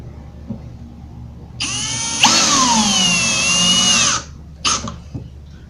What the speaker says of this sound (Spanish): colocas los otros dos tornillos que te permitirán sujetar firmemente tu riel